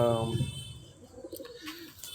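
Pigeons that stayed out of their cage at night coo nearby, a low throaty call at the start followed by softer, intermittent murmurs amid some faint background noise and possible voices.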